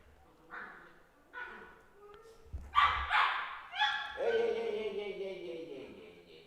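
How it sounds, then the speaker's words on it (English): Dogs bark and yip in short separate bursts that build into a longer whining, howling bark, heard fairly close in an otherwise quiet room. "can you hear my dogs?"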